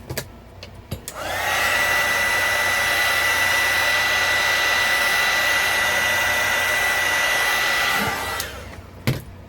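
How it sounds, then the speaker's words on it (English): A hairdryer, used as a heat gun on a wood craft project, switches on and blows steadily for several seconds with a constant whooshing whine, then cuts off, with a few clicks around it. "if you don't have a heat gun, you can use a hairdryer"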